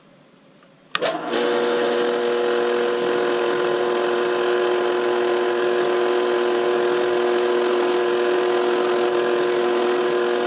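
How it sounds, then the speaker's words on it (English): A drill press runs at a low speed setting with oil applied, starting abruptly after a brief click and then holding a steady, loud, even motor whine with a constant tonal hum throughout, with no talking. "Alright, let's put it on the drill press."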